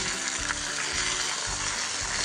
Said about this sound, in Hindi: और अब हम मटन को भी भूनेंगे अच्छे से